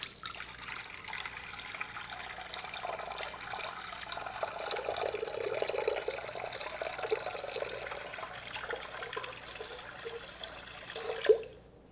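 Water poured steadily into a bowl set on a kitchen scale for bread dough, a continuous close splashing stream lasting several seconds before stopping abruptly with a small clink.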